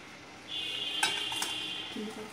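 Okra and tomato being stirred in a pan for bendakaya pulusu, with a steady sizzle and a couple of sharp clinks from a utensil scraping against the metal.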